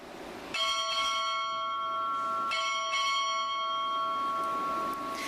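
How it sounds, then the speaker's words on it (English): Ship's bell struck four times in two paired strikes at a naval recruit training ceremony, bright sustained metallic rings with long overlapping decay, clear and close over quiet room tone. "Time orderly, strike 4 bells."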